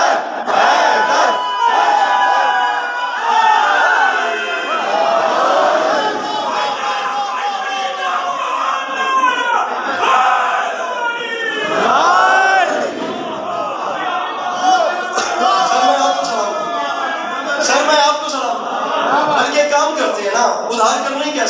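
A crowd at a Shia religious gathering in Islamabad chants the slogan Haidar together in loud, repeated rhythmic shouts, with a lead voice calling out over the massed response.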